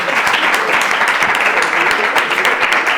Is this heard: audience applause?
yes